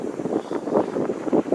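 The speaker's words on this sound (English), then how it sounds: "It's rather windy up here" Wind gusts buffet the microphone on a mountaintop in southern Spain, a close, rough, fluttering rumble that swells and fades in uneven bursts.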